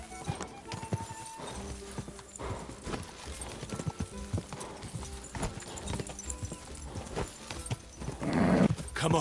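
Horse hooves clip-clopping in Kingdom Come Deliverance 2, steady galloping beats throughout with an occasional snort or whinny, heard alongside game sounds and someone talking.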